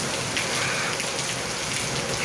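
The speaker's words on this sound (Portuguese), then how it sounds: "Chuva boa." Steady rain pouring down and pattering on surfaces, a dense continuous hiss that stays loud and even from start to finish, with no voices.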